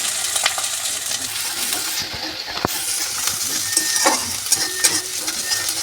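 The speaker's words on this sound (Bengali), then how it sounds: "আমার ভাজা ভাজা হয়ে এসছে, দেখুন রসুনটা একটু জাস্ট দিলাম" Ginger and garlic fry in hot mustard oil, giving a steady, close sizzling hiss with occasional stirring scrapes and light clinks, and no one speaking.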